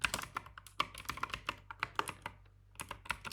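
Rapid keystrokes on a computer keyboard, close and clear, tapping in uneven bursts with a brief pause before a final flurry.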